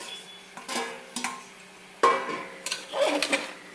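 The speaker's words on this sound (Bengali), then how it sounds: "এবারে আমি দিয়ে দিচ্ছি দেখুন চিকেনগুলোকে" Chicken pieces go into a cooking pot for a chicken stew, making a few sharp clatters and clinks of metal and utensils spread unevenly over a few seconds, close and moderately loud.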